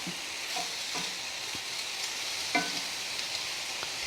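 Beef chunks for stew browning in a cast-iron skillet on high heat, a steady bright sizzle throughout with a few soft clinks of the pan and utensil, close and continuous.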